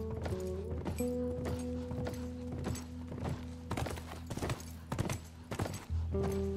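Horse hooves clip-clop steadily in The Last of Us video game, a brisk walking rhythm close by with a snort or whinny, over a low game ambience and no talk.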